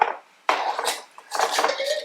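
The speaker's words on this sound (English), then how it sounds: "So I'm just dumping the rest of those chickpeas in here." Canned chickpeas dumped into a bowl make short, clattering bursts of tumbling, clinking impacts, a brief one, a longer spill after a pause, then another scattered rush, close and moderately loud.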